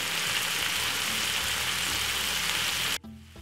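Prawns frying in butter with garlic and fresh thyme in a pan, a steady loud sizzle and hiss running continuously before cutting off abruptly near the end.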